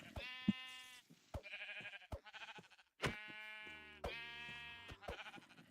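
A sheep in the video game Minecraft bleats loudly and repeatedly, about half a dozen harsh wavering calls in quick succession, close and clear against silence.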